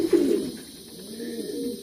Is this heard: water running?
no